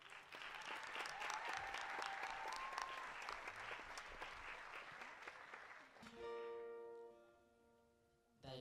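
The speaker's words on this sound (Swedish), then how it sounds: "En stor applåd till alla som har med den här saken att göra" Concert audience applauding at an Imagine Sweden final night, a dense steady clapping wash that fades after about six seconds into sustained musical tones, with a brief loud burst at the very end.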